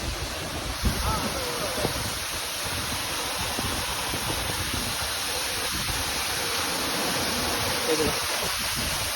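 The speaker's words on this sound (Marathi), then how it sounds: "आणि कड्याच्या मस्तपैकी दोन्ही बाजून हा वॉटरफॉल पडतोय" A waterfall pouring down a cliff face, a dense continuous roar of falling water filling the scene, steady and close with no letup.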